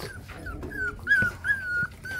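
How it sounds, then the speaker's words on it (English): A puppy whimpers in a series of thin, high, drawn-out whines that rise and fall close by, with soft rustling and handling noises underneath and no talking. "What do you want, puppy?"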